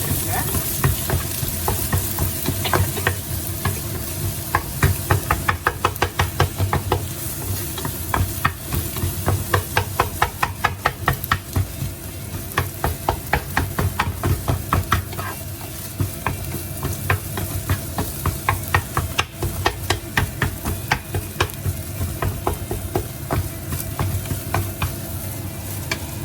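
Egg being stirred and tossed into idiyappam kothu as it fries in a pan, with steady sizzling and a busy rhythm of spatula scrapes and clacks throughout, close and clear with no talking.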